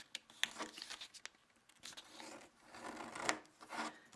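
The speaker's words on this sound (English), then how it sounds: "let's fold this edge to the top, and turn over, and let's fold this edge to the top." Crisp crinkling and creasing of a paper dollar bill being folded by hand, soft scattered rustles with a few sharper crackles, close and quiet with no talking.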